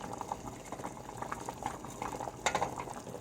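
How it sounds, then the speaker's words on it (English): Water boils on a stove under a heat-resistant measuring cup set in it as a double boiler to melt ingredients. The bubbling is steady and close, with no talk over it. "I'm going to sit it in boiling water, and it is going to melt our ingredients."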